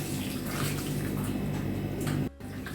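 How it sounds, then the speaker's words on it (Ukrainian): Warm water pours and splashes onto a kitchen towel, a steady close trickling wash that runs for over two seconds before cutting off abruptly, then resuming faintly. "Трішки поливаю полотенце."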